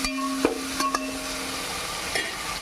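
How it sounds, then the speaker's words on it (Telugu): Onions and green chillies frying and being stirred in a pan, a steady close sizzle with a few sharp utensil clinks, no talking. "ఉల్లిపాయ ముక్కలు, పచ్చిమిరకాయలు వేసుకున్నాం. అవి బాగా మగ్గనిద్దాము."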